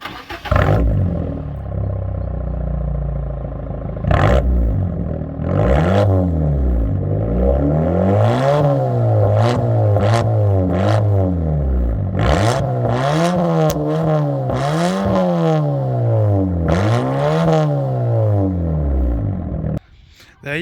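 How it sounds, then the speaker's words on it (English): Fiat 500 Abarth with a modified exhaust starting up and being revved, the engine catching, idling, then rising and falling through a series of loud sweeping revs close by, ending with a shutoff. "we will get some startup and some revs for you all."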